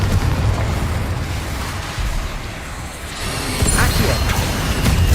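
Confringo explosive spell blasts in Hogwarts Legacy, a dense rumbling roar of fiery explosions filling the scene, continuous and loud with crackling debris and a brief lull midway.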